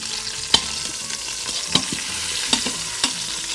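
Lamb shanks searing in an Instant Pot on the sauté setting, giving a steady close sizzle with a few sharp clacks of a utensil scraping and turning the meat.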